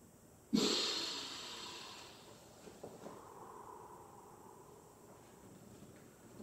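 A deep, sharp inhalation during a seated hypopressive breathing exercise opens loudly, then trails off into quieter, slower breathing that fades over several seconds.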